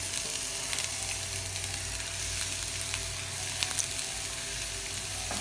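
Nuts frying in hot oil as a garnish for chicken kabsa, giving a steady, close sizzle with a bright crackling hiss throughout and no voices.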